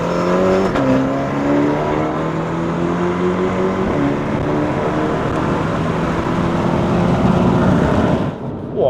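A Mini Cooper JCW GP Inspired Edition (F56) accelerates hard from inside the cabin, its engine note climbing in pitch, dropping sharply at a gear change, then rising again loud and close before easing off at the end.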